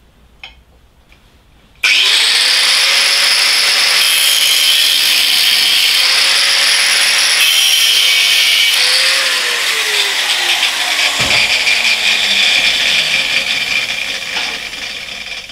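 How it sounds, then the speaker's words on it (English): Angle grinder spinning up and grinding welds on metal clamped in a vise, a loud harsh continuous whine with shifting pitch as the disc bites, close up with no voices. "I do try to always do the grinding in the vise"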